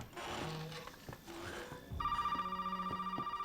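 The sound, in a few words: telephone ringing in the video game Resident Evil 7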